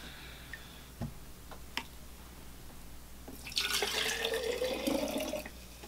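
Clear salt water is poured off a layer of aluminum oxide settled in a container, a steady splashing trickle starting after a few quiet seconds with scattered faint clicks and drips, close and moderately loud, with no talking.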